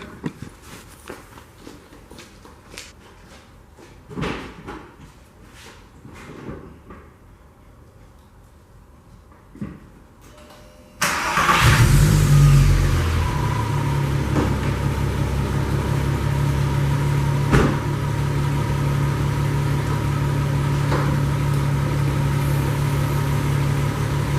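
A VW MK4 Jetta VR6 engine starts up after some faint handling clicks and footsteps, catching with a sudden loud burst, then settling into a steady, close, rumbling idle that holds for the rest of the clip.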